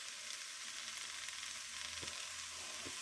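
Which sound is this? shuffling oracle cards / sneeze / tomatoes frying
tomatoes frying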